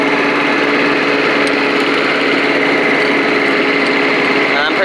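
An old, heavy, self-propelled Rover Turbothrust lawn mower runs close by, its small engine giving a loud, continuous, buzzing drone with a fast pulsing rhythm that never lets up.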